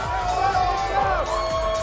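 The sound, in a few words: MIBR fans cheering in the esports arena crowd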